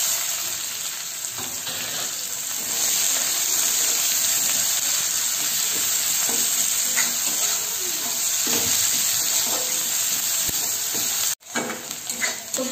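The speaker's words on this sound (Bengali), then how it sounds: "এবার দিয়ে দেব পেঁয়াজ কুচো" Chopped onions frying in hot oil with cumin seeds and a bay leaf give a steady, close sizzle with occasional stirring scrapes, briefly cut off near the end, with no one talking.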